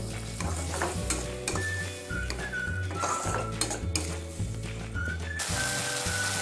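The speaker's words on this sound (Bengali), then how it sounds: "মিডিয়াম ফ্লেমে রেখে মশলাটাকে খুব ভালো মতো কষিয়ে নেব" Ground spices and tomato puree fry in a pan over a medium flame for a masoor dal, with steady sizzling under regular scraping stirs of a spoon against the pan and occasional metal clinks, close up and with no talking.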